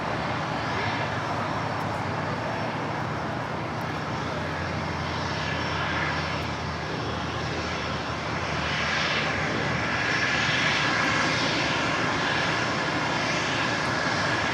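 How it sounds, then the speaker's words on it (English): Bombardier Global Express business jet on arrival at LAX, its engines roaring steadily and fairly loud for the whole stretch, with a low rumble underneath and no talk over it. "This Global Express is coming in from Van Nuys."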